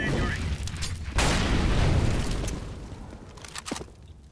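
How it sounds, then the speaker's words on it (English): A grenade goes off in the video game CS:GO, a loud booming blast that swells suddenly and rumbles for about a second before fading, with game noise and scattered clicks around it and no spoken words. "Throwing a grenade."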